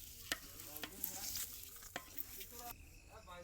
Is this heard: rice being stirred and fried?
yes